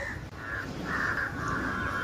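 A crow caws repeatedly in a garden, several harsh, drawn-out calls following one another at moderate distance, fairly clear against a faint background with no voices.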